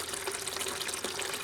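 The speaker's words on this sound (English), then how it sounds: "we'll get another bucket of RO water." Reverse-osmosis water runs steadily into a bucket, a continuous broadband rush and splash at moderate level with no talking.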